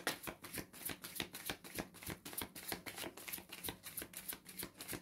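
Tarot cards being shuffled by hand, a quick steady run of crisp riffling flutters repeating across the whole stretch, close and fairly quiet with no voice over it.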